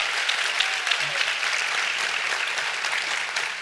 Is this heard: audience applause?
yes